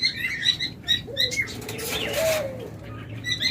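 Caged doves beat their wings in several quick bursts of flapping, near and fairly loud, with a short chirp or coo rising in the middle and no voices.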